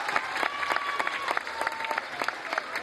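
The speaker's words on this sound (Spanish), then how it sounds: "Fuerte el aplauso para él, muchas gracias." Crowd applause at a lucha libre wrestling event held during San Francisco de Asís festivities in Colonia Tepatlaxco: steady, dense clapping from a large audience, fairly close and loud, with a faint tonal whistle or feedback line running through.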